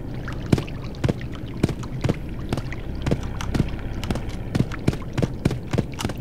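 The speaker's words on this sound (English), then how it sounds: "we should hear footstep sounds as we walk, and it will be randomized which footstep sound is playing as we're walking." Footstep sounds from a walking character in a Unity game come as a steady series of sharp, close steps at an even walking pace, each step slightly different.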